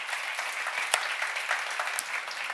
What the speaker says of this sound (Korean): 박수 치시기 바랍니다